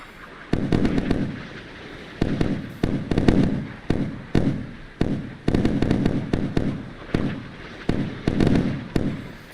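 In the naval simulator Sea Power, ships fire on an incoming missile: repeated bursts of rapid booming gunfire come in clusters with short pauses, heavy and fairly close, and no talk.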